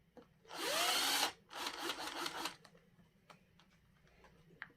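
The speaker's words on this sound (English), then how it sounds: "don't be afraid to drill your hole" A power drill bores a hole through an epoxy-coated tumbler, with one loud whirring burst that rises in pitch, then a shorter second burst and a few faint ticks and clicks afterward, all close by in a quiet room.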